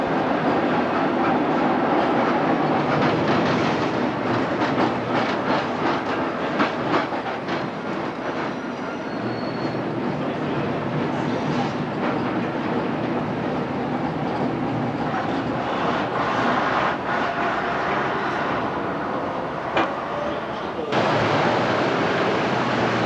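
An SNCV Vicinal light-rail tram, 1986, running between Courcelles and Gosselies in Belgium, heard from inside with a steady loud rumble and rattling clatter of wheels on track throughout, punctuated by occasional clicks and squeals.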